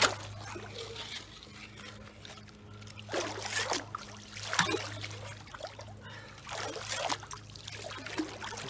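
Brook water trickling and splashing through freshly shovelled gravel and silt in a sieve at a fossil-digging site, a soft continuous flow with louder sloshing surges over a steady low hum.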